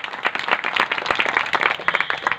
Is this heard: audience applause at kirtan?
yes